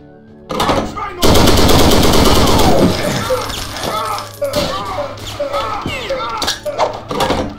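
An MG42 machine gun fires in Brutal Wolfenstein as a loud, rapid, continuous burst that gives way to shorter bursts and scattered impacts. Game sounds fill the background.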